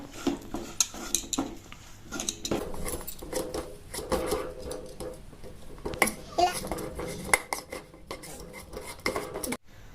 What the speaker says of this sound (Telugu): ఇప్పుడైతే నేను పొట్టు తీసుకున్న ఆలుగడ్డలను అయితే మెత్తనైతే చేసుకుంటున్నాను.